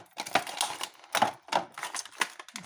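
Plastic packaging around a small makeup brush being torn and crinkled open, a few sharp rustling, crackling bursts close up with brief pauses between them.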